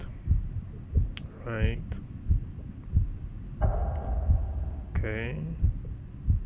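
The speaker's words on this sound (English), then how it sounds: "something is about to happen because the heartbeat goes up." A throbbing heartbeat effect from an indie horror video game set in ocean depths, a steady pounding pulse repeating throughout, with brief eerie tones and someone speaking a few words over it.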